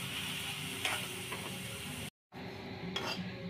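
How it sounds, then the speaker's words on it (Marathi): Spoon stirring a milk and sugar mixture in a pan on the stove, a steady soft scraping and swishing with occasional clinks of utensil against metal, briefly cut to silence partway through. "तर बघा हे असंपैकी हलवून घ्यायचं आहे."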